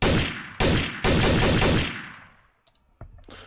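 Gunfire in the video game Trouble in Terrorist Town, three loud close bursts in quick succession, each decaying into a trailing echo, followed by a few faint clicks and a sharp crack.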